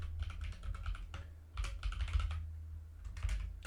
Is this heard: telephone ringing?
no